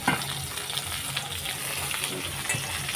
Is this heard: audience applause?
no